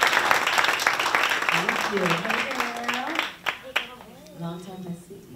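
Audience applause welcomes a guest to the stage at a campus lunch-and-learn talk, a broad wash of clapping that fades as people begin speaking over it.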